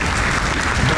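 Hand clapping, brisk and continuous, a steady close patter of claps with no pauses for the full second.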